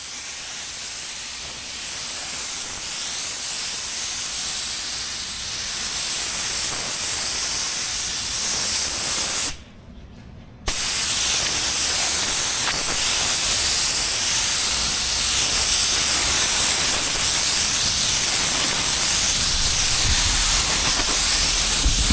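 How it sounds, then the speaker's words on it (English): A spray gun lays clear coat onto a car body during a dent repair and repaint. A steady, loud hiss runs throughout with one brief pause near the middle, and no one talks. "When applying the clear or paint, you always want to keep the sprayer moving."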